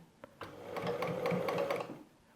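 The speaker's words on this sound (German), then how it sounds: "wir nähen einmal die Außenkanten um" A sewing machine set to a 2.5 stitch length runs steadily while stitching around the outer edges of a patchwork quilt block, a close whirring, rhythmic needle drone starting after a brief click and lasting about two seconds.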